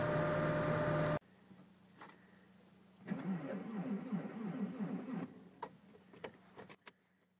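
A Peugeot car starting cold at -40°C: after a brief loud burst of noise and a quiet pause, the engine cranks with a rhythmic churning for about two seconds, followed by a few sharp clicks.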